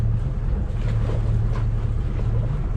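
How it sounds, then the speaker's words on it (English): A sailboat's inboard engine runs just above idle while motoring through a channel in Norway, a steady low drone under wind noise and water, continuous and fairly close throughout. "so I've got the engine on just a touch above idle"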